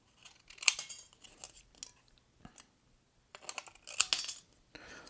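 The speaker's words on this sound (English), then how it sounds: "cut off a few of the jagged edges here so" Scissors snip jagged edges off a piece of thin aluminum can metal in a few quiet, sharp, separate cuts with short pauses between them, close up and alone.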